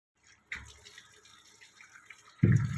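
Raw mangoes being washed by hand under a running kitchen tap, with water splashing and trickling over the fruit, a brief splash early and a louder rush of water near the end.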